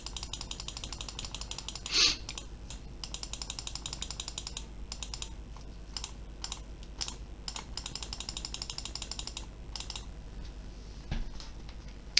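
Constant, fast clicking from a computer mouse or keyboard at a desk, close and fairly quiet, with a steady stream of small clicks and one louder click near the start.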